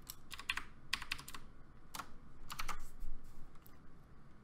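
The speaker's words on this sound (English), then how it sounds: "Just type it in." Bursts of clicky typing on a computer keyboard, quick irregular keystroke clusters separated by short pauses, close and fairly quiet with no talking.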